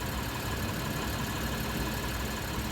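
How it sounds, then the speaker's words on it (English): A 2009 Lexus IS250 AWD engine idling steadily, with a faint rapid valve-train ticking under the continuous drone. "You may hear some ticking. That's my phone picking up the valve train noise."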